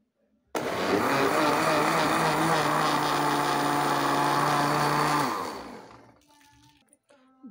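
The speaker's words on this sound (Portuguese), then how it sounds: "E bater no liquidificador." A kitchen blender runs loudly on a strained homemade shampoo mixture that was cooked and foamed, giving a steady high-speed roar for about five seconds before winding down to a stop.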